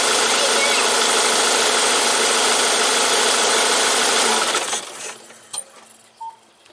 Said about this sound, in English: Now you normally rev the engine up to do a leak off test, but this one's so obvious we don't need to.